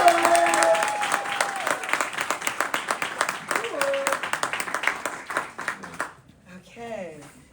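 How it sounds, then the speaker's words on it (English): A live audience at an Earn Your Leisure event in Greenburgh breaks into sustained, loud applause with cheering voices, fading out near the end as a few voices speak alone. "Can we clap it up for Lisa?"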